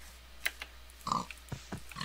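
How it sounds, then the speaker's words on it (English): Brief pig oink in the video game Minecraft, a short tonal grunt standing out among scattered clicks and taps, with no one talking. "I need to find the pigs."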